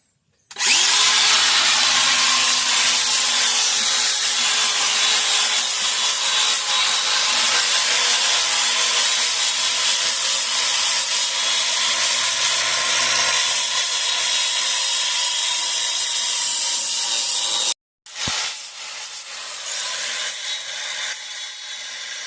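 A power sander with 40-grit paper whines steadily on wood for about seventeen seconds, loud and close, cuts out briefly, then starts up again.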